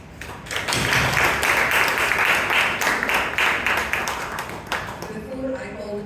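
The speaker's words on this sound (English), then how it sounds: "Let's give him a round of applause." A Toastmasters club meeting audience in Bangalore claps for a report, as applause swells after a moment, holds steady and dense, then thins out while voices come in near the end.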